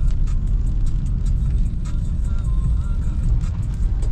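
Heavy road traffic on a rainy street in Dehradun, a steady dense low rumble of engines with tyre hiss, continuous and fairly loud throughout, with faint voices now and then.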